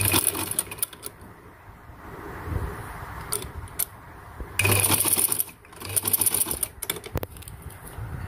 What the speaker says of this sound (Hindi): इसके ऊपर एक सिलाई लगा लें